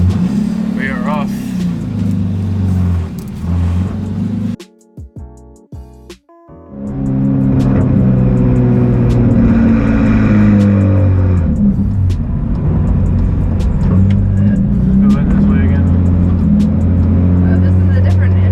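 A BMW M3 GTR car engine pulls away and accelerates, its low droning harmonics rising loud and close after a brief quiet gap, steady through the rest with people talking over it.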